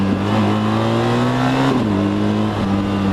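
A BMW R1300GS Adventure motorcycle engine running at steady revs while gears are shifted manually, its drone dropping in pitch at each change, loud and close with no talk.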